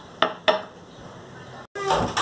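Gelatin and warm water are whisked in a bowl: two sharp clinks of utensil against the bowl, a brief lull, then a busy burst of clattering, scraping mixing close by.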